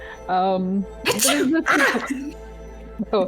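A sneeze bursts out amid a tabletop roleplaying game session, a short loud explosive blast preceded and followed by people talking.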